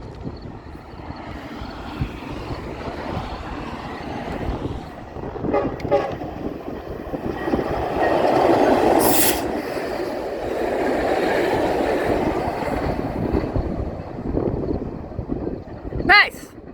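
A Metrolink passenger train rolls past as a swelling rumble that peaks midway. Brief horn toots cut in near the end, and a voice is faintly present.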